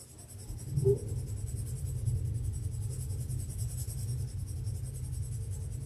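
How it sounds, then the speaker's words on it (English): A graphite pencil shades paper using its side in light circular motions, producing a soft, continuous scratchy rustle that stays quiet and close over a low steady background hum. "using the side of the pencil instead of the tip"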